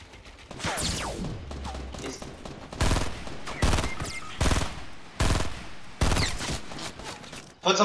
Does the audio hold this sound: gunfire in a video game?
yes